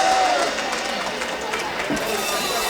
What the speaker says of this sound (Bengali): একটা জোরে করতালি দিয়ে আমরা আসিফ আকবরকে মঞ্চে আমন্ত্রণ জানাই